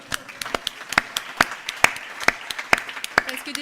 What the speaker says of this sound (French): on l'applaudit beaucoup